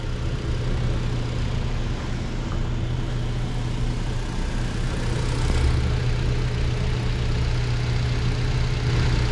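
A Jetour X70 engine idling after its cylinder head was replaced to fix overheating, a steady low hum and drone that holds even throughout, with no talk.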